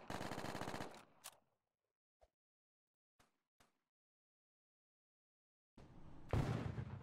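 Gunfire in a Roblox Fortnite game: a dense burst of rapid shots opens, a few isolated single pops follow across near silence, and another loud burst of fire closes it.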